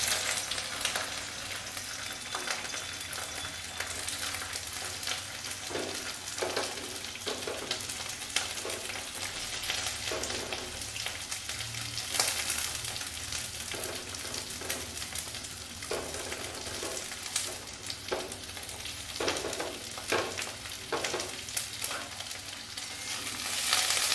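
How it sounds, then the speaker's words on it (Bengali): Kundri (ivy gourd) fries in mustard oil in a kadai with a continuous close sizzle. Repeated scraping and stirring strokes run through it at an uneven rhythm. "এখানে কড়াইয়ে আমি সরষের তেল বসিয়ে দিয়েছি। রান্নাটা সরষের তেলেই হবে। এবারে আমি কুंद्रीগুলো আস্তে আস্তে ছেড়ে দেব।"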